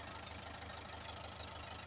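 An overhauled Isuzu 4BE1 diesel engine idles steadily and evenly, a continuous low rumble with a faint rhythmic knock, close by and alone without voices.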